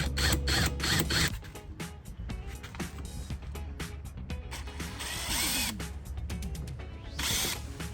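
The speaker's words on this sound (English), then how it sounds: "you're gonna drill out the 4 factory 5x7 mounts" A power drill grinds through metal, drilling out factory 5x7 speaker mounts on a Harley-Davidson motorcycle, whirring and chattering with rapid ratcheting bursts, steady and close throughout.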